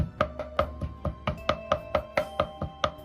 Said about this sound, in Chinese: 切好后感觉偏粗的一定要剁细一点